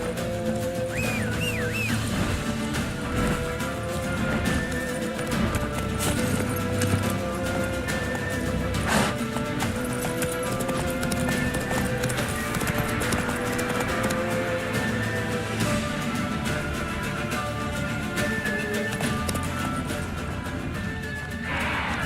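Roach the horse gallops in The Witcher 3 video game, with steady hoofbeats running through a dense, continuous bed of game music and ambience.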